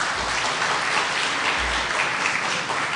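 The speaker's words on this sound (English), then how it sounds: "So let's give them a round of applause." A crowd at a wedding reception applauds the couple, a dense burst of steady clapping that fills the room for a few seconds.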